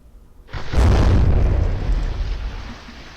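Shells from a warship's guns exploding against an already battered enemy ship in the naval combat game From the Depths, set in the Atlantic: a sudden deep boom that swells into a long rumbling roar, loud and slowly fading.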